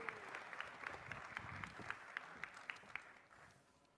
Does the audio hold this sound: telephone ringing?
no